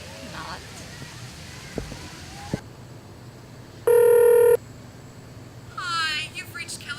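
A phone call placed on a mobile, with a steady electronic ring tone lasting under a second amid room noise, followed by a brief trilling warble, and a voice speaking faintly around it.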